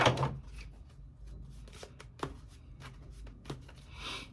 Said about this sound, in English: Shuffle this up one more time.